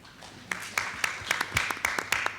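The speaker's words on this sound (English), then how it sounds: "Give a big applause to them." Clapping at the opening of a parliamentary roundtable on Senate reform: a sparse round of distinct handclaps, fairly close, building over about two seconds in a quiet room.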